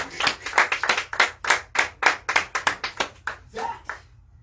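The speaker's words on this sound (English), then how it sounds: "Clap those hands in this place." A church congregation claps hands in a fast, even rhythm, roughly fifteen sharp, loud claps in quick succession that thin out and stop near the end.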